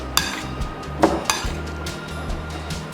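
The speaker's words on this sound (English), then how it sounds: "you just want to stir this until all the potatoes get" A spoon scraping and clinking against a bowl while potato salad with egg is stirred, several sharp irregular clinks over soft mixing sounds, close up with no talking.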